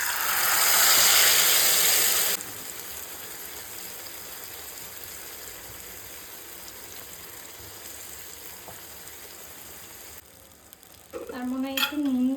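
Hilsa fish goes into hot oil already crackling with nigella seeds and dried red chilies, a loud burst of sizzling that settles into a steady fry, then a voice speaks at the end.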